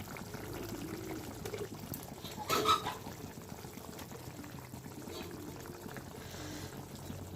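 Egg curry gravy simmering in a pan, a soft, faint bubbling and gurgling with a brief louder splash midway, continuous and close.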